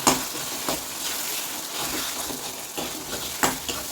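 Mashed elephant yam being stirred into sautéed tomato and onion in a hot pan, a soft continuous sizzle broken by several scraping stirs, close and fairly quiet, no talking.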